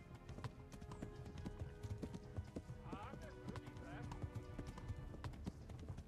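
A horse gallops in the medieval video game Kingdom Come: Deliverance, its rapid clip-clop hoofbeats running steadily throughout at moderate level, with a brief whinny and a voice talking over it.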